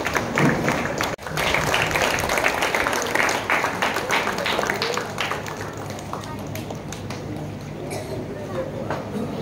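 An audience at a state youth games opening ceremony breaks into loud, dense applause that fills the space, sustained clapping that tapers slightly toward the end with a voice over the top.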